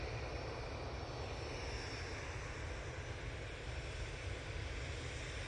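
Distant, faint rumble of a Boeing 787-8 Dreamliner jet arriving on a short positioning flight from Glasgow, a steady broadband roar with no voices.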